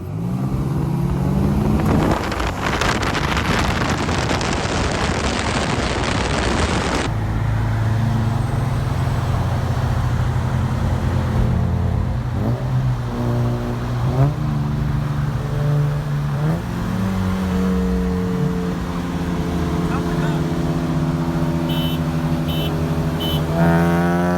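Turbocharged Honda Accord sleeper accelerating hard on low boost, a loud close engine roar climbing through the revs, dropping at each gear change and pulling again across several shifts.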